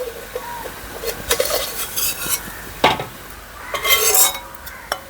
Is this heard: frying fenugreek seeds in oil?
yes